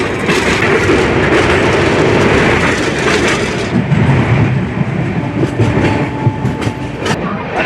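An LHB coach train, the Purushottam Express, rushes past close alongside with a loud, steady roar and rhythmic clickety-clack of wheels, seen from a moving train near a highway.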